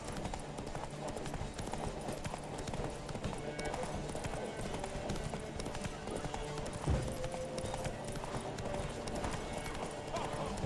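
Rapid clip-clop of hooves galloping across a busy, noisy game soundscape in The Witcher 3: Wild Hunt, steady and continuous with a brief whinny-like accent midway.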